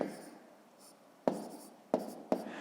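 Pen strokes scratch on paper as numbers are written out during a sixth-grade math problem, with a few short, sharp taps standing out against a quiet room.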